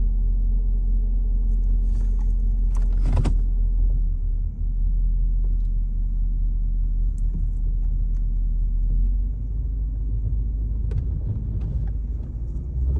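Mercedes-Benz CLS 550 AMG bought from a Copart auction, its engine idling with a loud, steady low rumble up close, with a few faint clicks and knocks over it.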